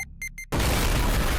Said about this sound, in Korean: 거대한 폭발음이 그들을 집어삼키는데